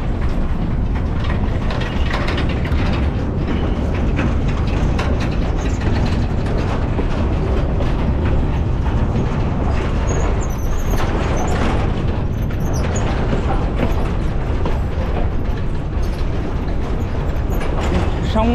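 A video game train rolls and slows toward a stop, giving a loud, continuous rumble of wheels and carriages with faint rattling and clanking throughout, filling the whole stretch without pause.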